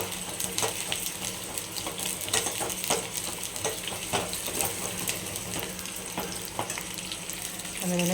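Onion and tempering seeds frying in two tablespoons of oil for a Telugu-style dal, a continuous close sizzle with scattered pops and crackles throughout.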